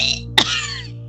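A voice imitates a dry cough or throat clearing, as if dust were stuck in the throat: one sharp burst, close and fairly loud, over a steady background hum.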